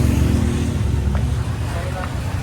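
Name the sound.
car running while driving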